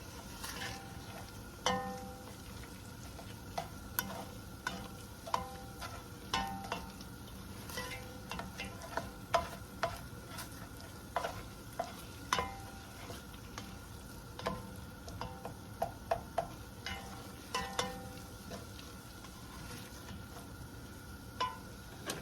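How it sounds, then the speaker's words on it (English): Flour is browned in a pan for tuna gravy. A soft, low sizzle runs under frequent light scraping and tapping stir strokes, close and fairly quiet, with no talk. "we're browning up our flour."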